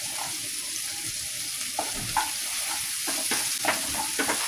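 Ginger and green chilli fry in hot oil in a pan for chilli chicken, with a steady close sizzle broken by several short scraping stirs toward the end.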